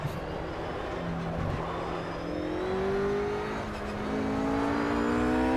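A RUF RGT-8 GT3 racing car in the Project Cars game on the Nürburgring Nordschleife, its engine whining and rising through the revs in a steady, close drone with shifting pitch.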